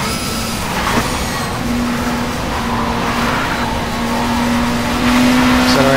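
A touring race car in the video game World Touring Car Champ 07 accelerates hard out of corners, its engine whining up through the revs with a gear shift and then climbing again, loud and close, with a voice speaking over it.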